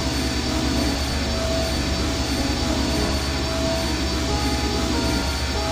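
A fragile airship engine with loose wiring in the I Have No Mouth, and I Must Scream adventure game runs as a loud, steady, even roaring drone that fills the whole stretch without a break.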